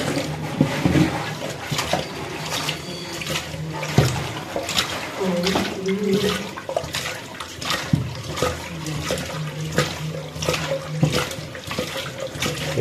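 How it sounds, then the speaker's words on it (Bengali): Puti fish being rinsed in water, with steady splashing and running-tap sounds continuing throughout, sloshing close by under faint background noise. "তো আরও কয়েকবার ধুয়ে নেওয়ার চেষ্টা করবো"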